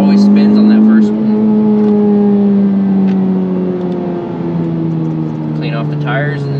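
A 10th-generation Honda Civic Type R FK8 accelerates hard, its engine a loud, close, sustained drone whose pitch slides gradually downward across the run.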